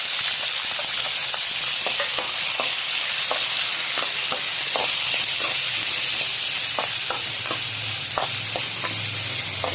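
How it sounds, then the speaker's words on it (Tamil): Garlic and green chillies fry in a pan with a loud, continuous hissing sizzle and scattered light clicks from stirring, near and steady throughout with no talk. "நல்ல ஒரு பொன்னிறமாக வர வரைக்கும் நல்லா வறுத்துக்கலாம்"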